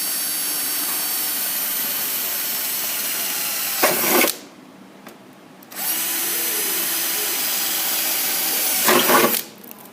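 A drill whines steadily into a metal toolbox to fit a hasp, stops briefly, then resumes at the same high pitch, with short clattering bursts where it starts and stops.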